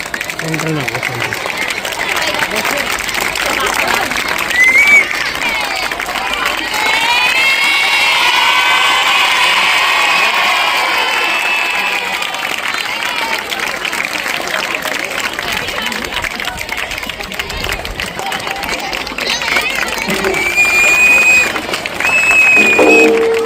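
Audience at a school prize-giving ceremony at Usama Urdu High School in Bhusawal clapping and cheering steadily, with children shouting over a loud, continuous crowd din that swells near the end.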